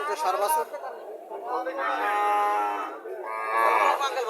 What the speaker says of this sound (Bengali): দেশি গরু